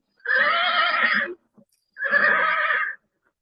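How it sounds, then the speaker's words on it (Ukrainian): Two loud, shrill horse neighs, each lasting about a second, separated by a short pause with no other sound. "Це кінь."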